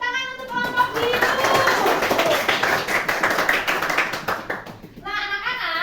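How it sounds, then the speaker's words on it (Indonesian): A classroom of children claps for the blue group, a sustained burst of dense applause lasting several seconds, with brief voices at the start and end. "Beri tepuk tangan untuk kelompok biru."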